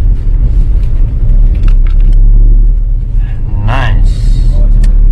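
Car pulling away from a stop after the handbrake is released and first gear is engaged, its engine rumble rising and swelling up close, with brief voice-like sounds near the end.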